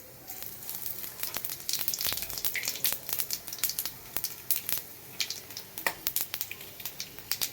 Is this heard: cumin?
yes